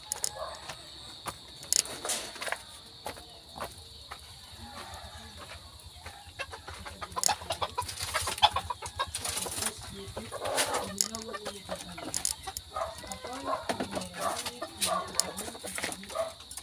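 Chickens cluck intermittently over a steady insect drone, with scattered rustling and occasional faint voices in the background.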